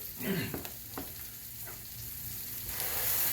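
Burger patties seasoned with black pepper sizzle steadily in a pan, a close, continuous hiss with a few brief crackles and a soft clatter near the start, no one speaking.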